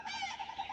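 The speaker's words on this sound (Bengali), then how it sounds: "তার সঙ্গে কত রকমের যে পাখি ডাকছে" Several birds call in a Kolkata botanical garden, a steady repeated tonal note with bright higher whistles, close and clear with no talk.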